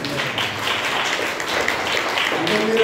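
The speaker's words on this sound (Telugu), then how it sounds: "గట్టిగా చప్పట్లు కొట్టండి." A church congregation at a Telugu Christian gathering in Kuwait claps together in steady, sustained applause that fills the whole moment at an even level.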